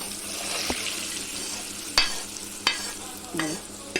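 Gentle stirring of drumstick pickle (mulakkaya pachadi) as cooled oil is mixed through, soft scraping with a few sharper spoon clinks against the bowl, close and quiet.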